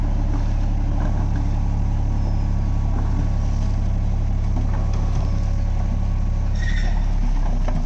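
A vehicle with a wheel sunk and stuck runs its engine in a loud, continuous low drone that stays heavy and close throughout, without talk.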